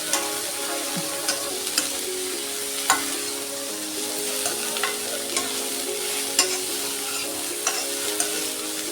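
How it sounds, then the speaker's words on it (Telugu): Baby corn and capsicum stir-frying in a little oil: a constant close sizzle with occasional scraping stirs of a spatula in the pan, with no voices. "పచ్చివాసన పోయేదాకా వేపుకోవాలి."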